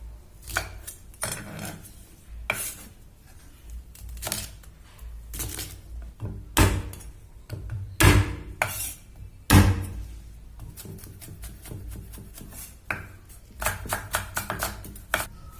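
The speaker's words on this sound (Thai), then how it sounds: "เราจะสับพริกให้" Chilies chopped finely with a knife on a cutting board for a Thai stir-fry of long beans and shrimp: rapid, uneven bursts of sharp chopping knocks, some louder thuds, nearby with no talking.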